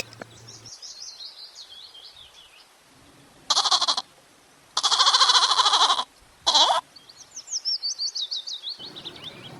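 Three loud bleats from a goat, the middle one longest, stand out between stretches of bright chirping bird calls, each bleat abrupt and close.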